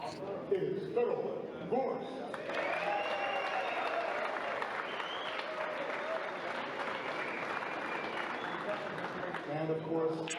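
Crowd applause at a 9-ball pool tournament on the TV table, steady and moderately loud for several seconds, with some voices mixed in.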